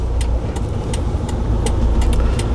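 A 2.5-ton manual truck pulling away after shifting into gear, a steady loud engine rumble heard from inside the cab with faint ticking clicks over it.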